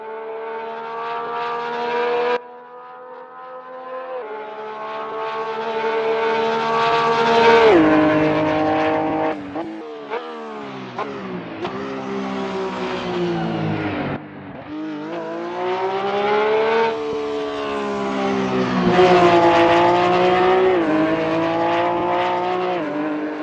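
A 2017 Porsche GT3 Cup race car in Assetto Corsa, with a loud engine revving hard through repeated upshifts and downshifts, pitch climbing and dropping in waves across a lap, alone without speech.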